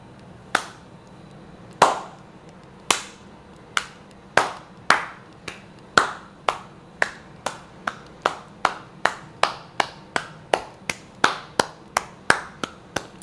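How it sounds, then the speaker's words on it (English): Hands clapping, about two dozen sharp, close claps, slow and spaced at first, then speeding into a steady, quicker rhythm, alone with no talk. "I clap for that."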